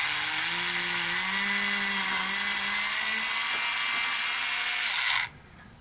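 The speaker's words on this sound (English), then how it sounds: "Now we want to re-drill out our holes" A power drill with a small bit re-drilling tiny holes in a model ship whines loudly and continuously for about five seconds, its pitch wavering slightly, then cuts off abruptly.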